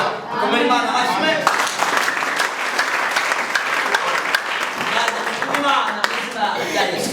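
Sustained applause from a church congregation, dense clapping running steadily for several seconds at a worship service, loud and close, with a few voices and light laughter mixed in.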